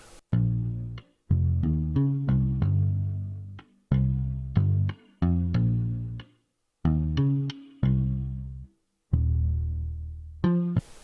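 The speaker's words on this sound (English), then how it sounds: "I added a bass from Modo Bass, and the presets I used is called Motown Bass" Modo Bass synth bass on the Motown Bass preset plays a rhythmic, punchy line of short plucked notes with gaps between phrases, alone and up close, for a neo soul R&B sample.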